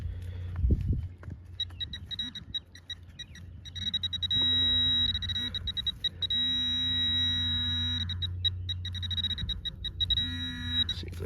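Metal detector searching a 1700s site for a button, giving repeated warbling electronic tones with steady pulses and some held notes, close and clear, with a few handling thumps.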